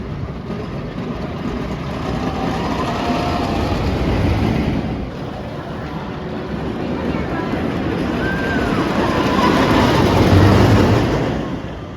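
Thunderbolt roller coaster at Kennywood on a night ride: a loud, continuous roaring rumble of the train and rushing air that swells and eases over about twelve seconds.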